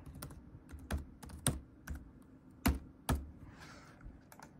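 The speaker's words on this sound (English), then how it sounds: "Let me just type that in." Close, quiet typing on a computer keyboard while entering a Wi-Fi password during a Chrome OS Flex setup: irregular individual key clicks with a few louder taps and brief pauses.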